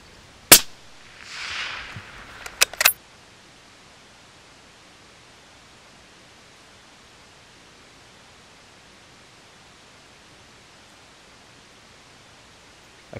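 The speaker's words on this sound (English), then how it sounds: "With no shooting sticks to hand, I resort to a kneeling shot to dispatch the first of four muntjac." Rifle gunshot while stalking muntjac deer outdoors, a single sharp crack followed by a rustling burst and two more short sharp knocks, then a long quiet hiss of open-air background.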